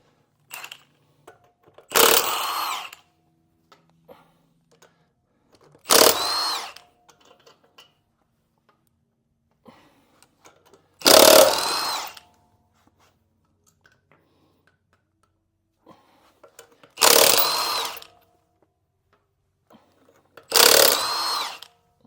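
Power tool working on the front wheel of a 2021–2024 GMC Yukon XL Denali during a brake job: five loud, short bursts of impact-driver whirring, each about a second long, separated by several seconds of near silence.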